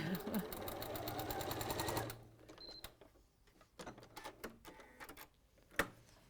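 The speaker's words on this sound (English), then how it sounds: "It's a lot noisier when you've got a walking foot on, isn't it?" A domestic sewing machine with a walking foot fitted runs in a fast, rattling stitch burst for about two seconds, then stops, leaving quiet handling clicks and soft movement in a studio.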